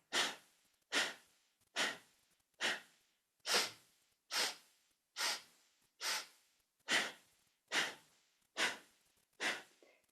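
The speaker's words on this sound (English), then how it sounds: "We're inhaling for 4 sniffs and we're exhaling for 4 sniffs. On those exhales, really pump the belly." Kundalini breath of fire with twelve evenly spaced, forceful pumped nasal exhales, each a sharp sniffing burst fading quickly, close and clear with no talking.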